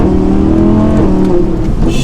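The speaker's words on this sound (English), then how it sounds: "Let's give it another acceleration" A V10 supercar, a Lamborghini Huracan or Audi R8, accelerating on a road: a loud, steady engine drone with layered harmonic whine close to the microphone, dipping slightly near the end.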